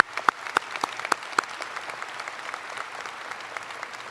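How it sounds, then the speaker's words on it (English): Audience applause at a high school graduation ceremony, a steady wash of many hands clapping with a few sharp, close claps standing out early, continuing evenly at moderate loudness. "Please join me in giving them one more quick round of applause,"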